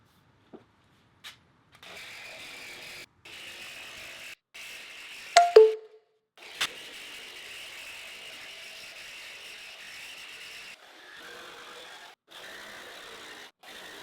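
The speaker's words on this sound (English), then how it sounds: "I moved on to the jigsaw to keep cutting those curves." Jigsaw cutting curved lines through an arch backdrop panel for event decoration, a steady mechanical buzz running in long stretches with brief stops and a couple of sharp clunks midway.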